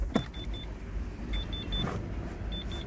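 The driver's door of a Renault Megane Grandtour opens with a few thuds while a high, repeating warning chime beeps in short bursts over a low rumble of street traffic.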